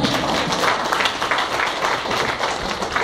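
Dense applause from a crowd, steady and fairly loud throughout, with no talking over it.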